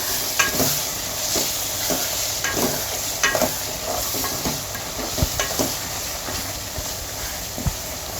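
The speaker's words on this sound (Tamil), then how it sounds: "இது இப்படியே கொஞ்ச நேரம் வதங்கட்டும் முருங்கைக்காய்." Drumstick pieces sizzle steadily in a pan of fish curry base while a spoon stirs them, with repeated scraping strokes over a constant frying hiss, close and fairly loud.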